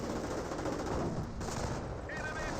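STG rifle fire from a battle in Company of Heroes rattles in continuous quick bursts, fairly faint and dense, like distant automatic gunfire under a busy game soundscape.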